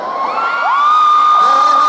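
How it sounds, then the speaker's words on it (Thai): Concert crowd at a live 9entertain on-air show screaming and cheering together, a loud, sustained wall of voices with high shrieks rising over a steady roar. "ขอเสียงกรี๊ดให้พี่ต้องหน่อยแล้ว"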